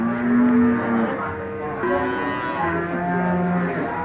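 Cattle moo repeatedly at a busy livestock market in the days before Lebaran, long low calls overlapping from several animals close by amid a steady crowd murmur.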